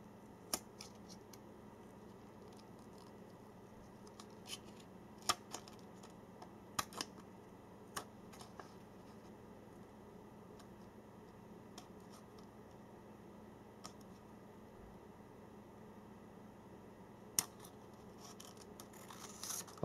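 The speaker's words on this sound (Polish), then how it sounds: "możemy sobie porządnie te nożyczki przyłożyć i wykonać jedno cięcie" Scissors snipping a plastic SIM card down to size, with sparse sharp clicks and cuts scattered across a quiet stretch, close and faint against steady room noise.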